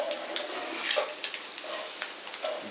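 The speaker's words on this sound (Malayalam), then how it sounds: "ഇതുപോലെ നമുക്കൊന്ന് ഫ്രൈ ചെയ്തെടുക്കണം." Spice powder frying in a pan for egg curry gives a steady, fairly close sizzle, with soft scraping and stirring sounds now and then and no voices over it.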